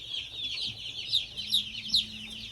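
Cornish cross chicks just arrived from a hatchery chirp and peep in a brooder, a steady run of high cheeping with a few louder peeps, fairly close and with no talk.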